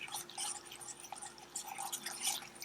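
Caramel sauce bubbling in a pot: irregular, close little pops and drips, light and wet, scattered steadily with no talk.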